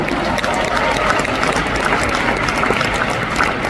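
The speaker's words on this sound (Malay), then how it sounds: "Tepukan untuk Bonda Haja Mariam." A large audience at an Amway mega recognition event applauds, a steady wash of clapping at moderate loudness, continuous from start to end.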